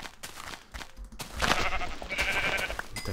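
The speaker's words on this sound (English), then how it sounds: "We'll get some more sheep so we can make a double bed." Sheep bleat in the Minecraft video game, several short wavering cries, near and fairly loud, over a busy backdrop of game sounds.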